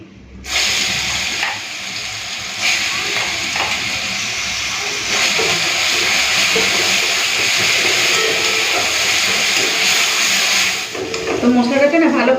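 Onion, garlic and ginger paste sizzles loudly and steadily in hot oil on a gas stove, a bright continuous hiss that briefly dips and then swells, with some clatter near the end.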